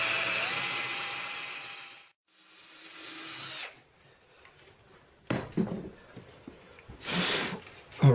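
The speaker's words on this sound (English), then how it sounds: "I am going to drill out each one of these all the way down through the neck" A power drill bores dowel holes down through the wooden neck of a cigar box guitar, whining in several bursts with quiet pauses and some handling knocks between.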